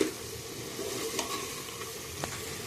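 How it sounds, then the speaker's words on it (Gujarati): A spoon stirring stuffed brinjal curry in a sizzling pan, with soft scraping strokes over a steady frying hiss, plus a couple of brief clinks, close and without talk. "હવે આપણે એક વખત હલાવી લઈએ"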